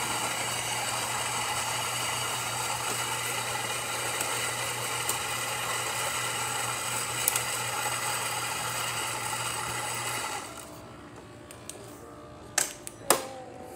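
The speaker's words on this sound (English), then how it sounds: "Beans are feeding straight into the grinder" A Saeco Incanto espresso machine, fitted with a new grinder, grinds beans for a shot with a steady, close motor whir. The whir stops after about ten seconds and is followed by a few sharp clicks and knocks.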